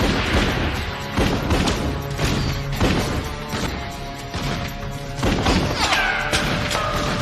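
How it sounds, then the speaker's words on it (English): Movie gunfire from The Crow, a run of loud close cracks and heavy thuds with crashing impacts, irregular bursts over several seconds under a dense, busy soundtrack. "Well, don't run into the gunfire."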